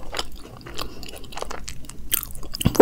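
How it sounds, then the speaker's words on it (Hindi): Crunchy bites into petha filled with khoya barfi, an Indian sweet, with several close, sharp crisp bursts spread through the moment, the loudest coming near the end. "वो पेठे वाली बाइट का हल्का सा क्रंच और बीच में खोए की इतनी स्वीटनेस।"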